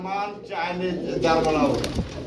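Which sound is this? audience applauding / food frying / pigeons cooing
pigeons cooing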